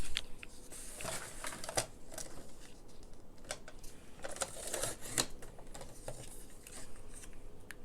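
Paper being cut with scissors for a 12x12 one page wonder mini album, quiet close snips and rustles in an irregular rhythm, with soft handling noises between cuts.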